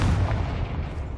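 Confringo blasting spell in Hogwarts Legacy going off as one heavy, deep explosion that booms loud at first and rumbles away over about a second.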